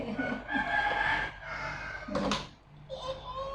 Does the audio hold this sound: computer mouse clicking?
no